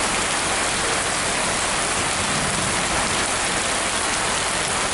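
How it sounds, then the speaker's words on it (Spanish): Steady heavy rain pours down in a dense, even hiss at Río San Juan, with no pauses or other sounds breaking through. "Lleva un par de minutos lloviendo."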